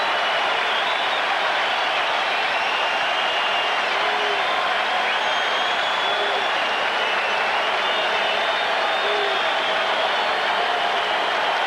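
A packed Fenway Park crowd at the 1986 World Series Game 4 between the New York Mets and Boston Red Sox, a dense, sustained roar of applause and cheering that holds steady and loud throughout.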